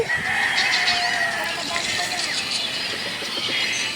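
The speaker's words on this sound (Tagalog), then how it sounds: "Ang dami mga kruk tuk tuk tuk. Ano ba yun? Daming chicken dito." Chickens clucking and a rooster crowing on a farm in the Philippines, a busy continuous chorus of many birds close by, with a bit of background activity.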